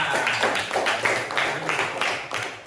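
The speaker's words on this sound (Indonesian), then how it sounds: "tepuk tangan untuk Sinta" A classroom of students bursts into rhythmic clapping for a classmate, several quick bursts of applause filling the room with a steady, bright patter.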